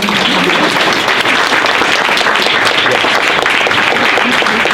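Loud, dense applause from an audience at a Hindu–Catholic dialogue gathering, a continuous roar of many hands clapping close by, steady for several seconds without pause.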